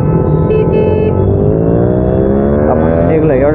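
A Triumph motorcycle on a night ride gives a loud, steady exhaust rumble as it rides, with the engine pitch climbing as it accelerates.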